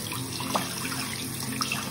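Water runs steadily from a tap into a bathtub, a continuous, even rushing that holds at moderate loudness for the whole stretch, with no voices.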